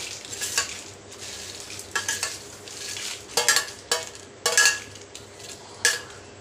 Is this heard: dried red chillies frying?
yes